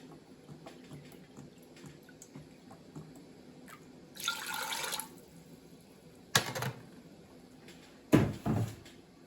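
Water poured into a pot while making sweet pickles for canning, three short splashing pours, close and moderately loud over quiet kitchen background.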